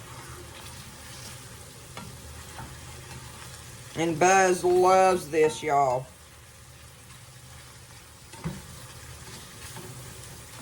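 Shrimp for a scampi sizzle steadily in a pan as they are stirred, a continuous frying hiss with soft scraping, briefly joined by someone speaking in the middle.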